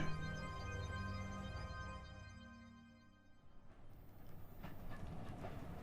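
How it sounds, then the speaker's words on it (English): A train pulls into a makeshift station at a drainage site. A rolling rumble and a sustained tonal whine fade into a clattering, rattling ride over the rails, steady and moderately loud. "as the train pulls into a rather ad hoc station built by the hydraulic engineers to serve the drainage site"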